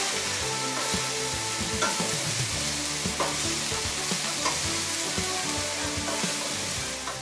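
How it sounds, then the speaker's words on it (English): Chopped onion, garlic and cauliflower florets sauté in a pan with a continuous close sizzle, broken by scraping stirs and light utensil knocks. "Saute the chopped onion, chopped garlic, and cauliflower florets."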